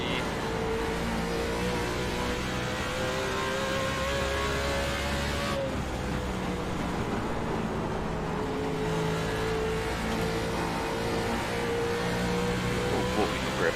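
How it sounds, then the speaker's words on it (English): Several race car engines in the iRacing video game at Rockingham drone and whine continuously, layered and fairly loud, with shifting pitch as they rev, under occasional talk. "Boy, we got a gaggle of cars back here."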